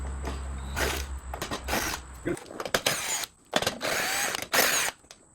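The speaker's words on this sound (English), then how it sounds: "today I'm actually going to be using my impact, but just a normal socket is going to work fine" Impact wrench buzzing in short bursts as it removes fender screws on a Kawasaki KLX110 dirt bike, loud and close; several on-off runs separated by quieter gaps with handling noise.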